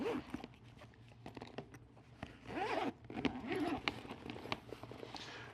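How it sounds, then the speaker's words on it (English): Zipper being drawn open on a weekender bag, several short rasping pulls close by with faint handling rustle, no one talking. "The zipper does not go all the way around."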